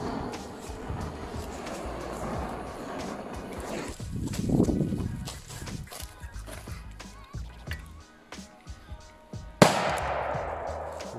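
Outdoor rumbling and scuffling noises, then one sudden, loud, sharp bang of a large K1000-based firecracker shaped like a coronavirus near the end, fading quickly.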